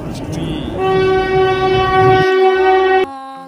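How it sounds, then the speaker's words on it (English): A train horn sounds loudly and steadily over the rumble of a passing train, beginning with rolling rail noise before the sustained multi-tone blast takes over, then cutting off abruptly at the end. "T for train. T for train."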